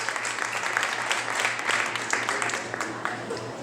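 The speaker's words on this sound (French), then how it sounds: "on l'applaudit fort" A classroom audience applauds a winner at a school spelling contest, a continuous steady patter of many hands clapping throughout, with a low hum underneath.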